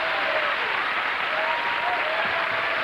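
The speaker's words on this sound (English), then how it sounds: "I don't know why that should get applause." A studio audience at a comedy chat show claps continuously, a thick, even wash of applause that fills the short stretch without swelling or fading.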